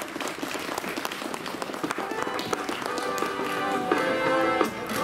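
Spectators applaud a third-place finisher at a cycling race in Hechtel, with steady dense clapping mixed with crowd noise and a faint announcer voice underneath, swelling slightly toward the end.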